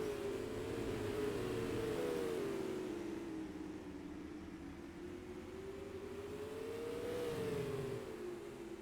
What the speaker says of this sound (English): And there are some evil handling race cars out there right now.